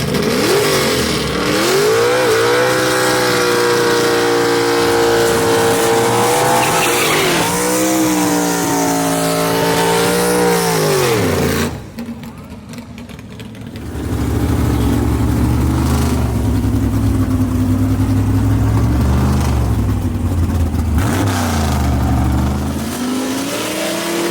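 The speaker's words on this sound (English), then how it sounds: "the number 5 qualifier, Scott Wallace, in the Indian Express, the 1952 Pontiac" A 1952 Pontiac gasser launches down Knoxville Dragway in a drag race, its engine roaring loud and close as it revs through rising gear pulls, a brief drop in level, then another sustained high-rpm run.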